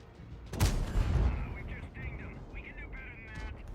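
A single tank cannon shot from a tank video game booms loudly at the start, trailing into a rumbling decay with whining mechanical tones afterward, under a commentator's voice.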